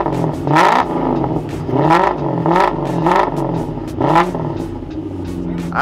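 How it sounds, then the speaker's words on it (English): A BMW E36 widebody's engine revs hard in several repeated blips, each rising and falling with a throaty, V8-like roar, close and loud with no talking. "That sounds like a proper V8 there."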